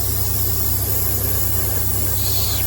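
A spray can hisses steadily and continuously up close, laying a light coat on a part of a Parkside van kit, with a low hum underneath.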